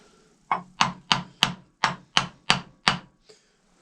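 A large double-bevel chisel is tapped into wood, eight sharp, evenly spaced knocks ringing out close and clear, with a fainter ninth strike trailing at the end and no talking.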